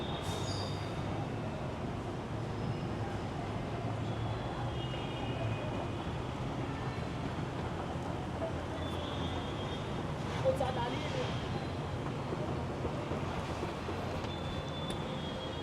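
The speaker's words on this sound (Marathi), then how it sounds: "फायनली आपली ट्रेन आलेली आहे." A Pune Metro train arrives at an elevated station, a steady low rumble and rolling hum of the carriages with faint high squeals, heard under a constant murmur of station noise.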